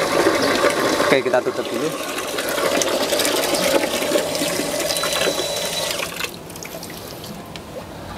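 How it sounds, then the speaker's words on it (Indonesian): A Shi water pump drawing from two separate water sources runs with a smooth, fairly quiet mechanical hum alongside gurgling, trickling water, while a person speaks briefly over it near the end. "Pompa ini ternyata nggak terlalu bising ya, karena suaranya cukup halus."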